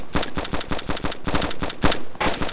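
Sniper rifle fire in the game DayZ Standalone, a rapid run of sharp, loud gunshot cracks in quick succession with short gaps, close and dominant with no talk.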